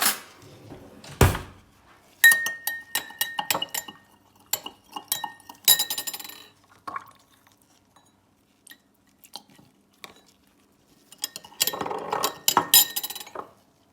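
Laundry detergent is stirred and mixed in a container, with bursts of clinking, scraping contact separated by quiet pauses. The sounds are close, loud and alone.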